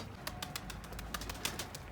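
Pigeons coo and flutter softly in an enclosed coop, with scattered short calls and rustling over a low background hum.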